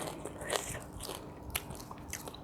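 Crisp bites into large, dry, crunchy fried pork rinds (khaep mu), a few sharp crunches with chewing in between, close and fairly quiet, no talking.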